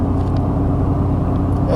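A Chevy Silverado pickup truck with a random misfire fault drives at cruising speed, its engine and road noise a steady, loud, low rumble from inside the cab.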